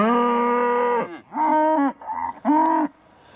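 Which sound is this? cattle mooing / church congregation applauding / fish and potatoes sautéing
cattle mooing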